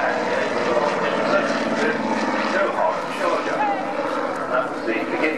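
An Avro Anson's propeller engines drone in a continuous, fairly close roar during a Farnborough International Airshow display, with someone talking over the sound throughout.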